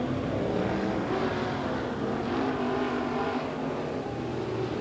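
Super sedan race cars at Moama Speedway roar together in a loud, continuous engine drone as the field gets away, a dense sustained rumble with no break.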